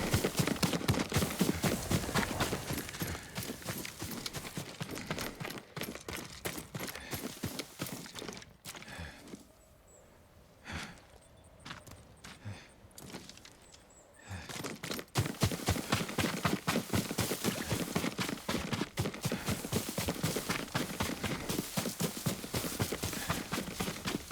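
Rapid horse hooves clip-clop steadily at a trot in the video game Ghost of Tsushima, fading to near quiet midway with a few scattered steps, then resuming a brisk rhythm.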